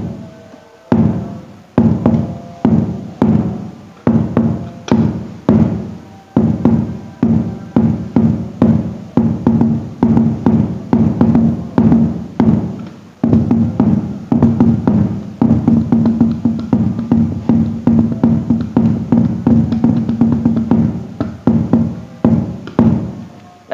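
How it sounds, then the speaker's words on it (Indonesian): A hadroh bass habsi frame drum from Jepara is struck in a steady run of deep, booming hits played indoors, each hit ringing slightly in the room, loud and close with no voices. "Anda yang penasaran suara bass Habsi, Anda bisa dengarkan, cek suara ini"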